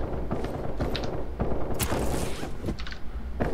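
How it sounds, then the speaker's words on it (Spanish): Rapid bursts of video game gunfire from Lost Light crackle in quick succession, sharp and close, with short gaps between volleys and a steady background hum. "Esos disparos son muy robotizados."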